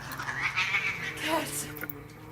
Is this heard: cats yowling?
yes